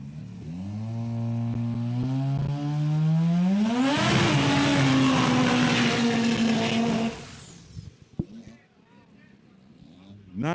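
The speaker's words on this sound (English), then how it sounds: "Nice, decent burnout there for Dale Myers." A drag racing car at a TTASA drag racing event does a burnout, its engine roaring loudly and climbing in pitch, holding a harsh screaming tone, then cutting off abruptly into quieter crowd sounds and voices.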